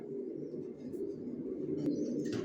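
A pair of young racer pigeons coos softly and low, close by but quiet, with a faint chirp and a flutter near the end.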